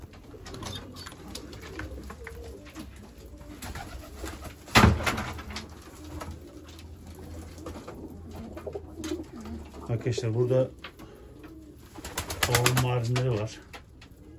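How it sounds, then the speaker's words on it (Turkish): Bango pigeons with their chicks coo in a loft, low soft murmurs scattered through the scene along with a sharp knock and some wing rustling, while someone talks close by. "Şu bango yavruları var ya, bakın sarı kanatlar"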